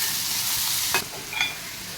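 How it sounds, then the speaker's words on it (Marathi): Onions frying with asafoetida in a pan for Maharashtrian brinjal bharit, a steady sizzle with a couple of brief spoon scrapes near the middle, close and without speech. "छान हा कांदा लाल करून घ्यायचा आहे"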